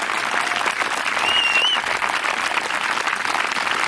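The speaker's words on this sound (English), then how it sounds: "Clap louder if you're in it for the long haul." Dense, steady applause from a crowd gathered outdoors at a Black Lives Matter vigil in San Carlos, sustained and fairly loud throughout with a faint whistle rising briefly above the clapping.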